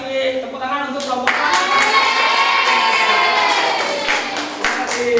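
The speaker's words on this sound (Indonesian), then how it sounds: "semuanya Pak kasih tepuk tangan untuk kelompok" A classroom group of students claps and cheers together, steady applause mixed with excited young voices shouting, lively and close throughout.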